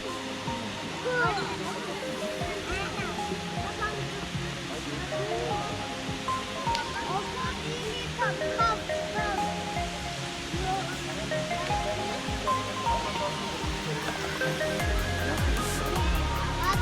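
Erfelek Tatlica waterfall on a hiking trail in Sinop, Turkey: a constant broad rush of falling water from a moderate distance, with people's voices and chatter faint beneath it throughout.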